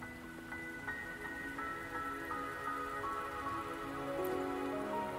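Steady rain falls in the video game Wuthering Waves, a continuous soft patter that holds an even level for the whole stretch, with gentle sustained tones of background music beneath it.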